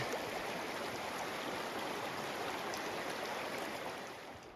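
Hikers wade across a forest stream on the Te Araroa trail in New Zealand. A steady, loud rush of flowing water fills the whole stretch, easing slightly at the end, with no voices.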